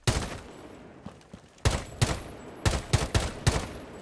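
Gunfire in the video game Rainbow Six Siege cracks out in short bursts of single shots, loud and close, separated by brief pauses.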